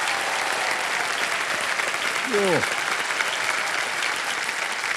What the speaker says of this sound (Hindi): जोरदार तालियां साक्षी के लिए